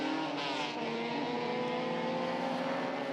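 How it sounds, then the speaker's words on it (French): Continuous roar of vintage racing car engines at Le Mans Classic 2018, about 700 cars on track, with harmonic whine rising and shifting, dense and loud throughout with no talking. "Les odeurs et les bruits. Là, c'est vraiment chouette, avec 700 voitures en piste."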